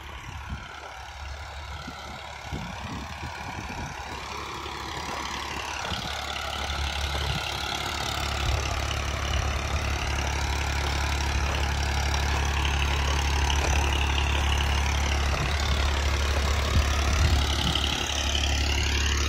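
A single dewatering pump motor runs at a construction site for high-rise towers, giving a steady, loud mechanical drone with a strong low hum that holds level and slowly swells throughout, without speech.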